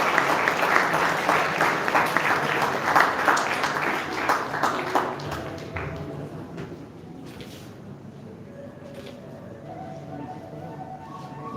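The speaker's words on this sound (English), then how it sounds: "Give a big round of applause to Shreya Tili." At a school felicitation ceremony for commerce toppers, the audience claps for a student, a burst of applause strongest in the first five seconds before thinning out, with scattered murmurs and small shuffling noises afterward.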